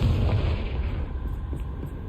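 A deep, rumbling boom from a Confringo fire spell in Hogwarts Legacy, loud at the start and decaying into a low, sustained roar without talk.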